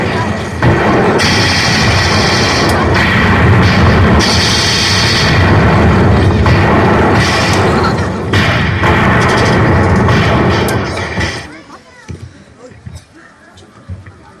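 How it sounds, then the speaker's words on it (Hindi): Loud, dense gunfire and booming blasts rage continuously in a battle scene, then cut off abruptly, leaving a quieter stretch. "आजाद और अंग्रेजियों के बीच एक भीषण युद्ध होता है"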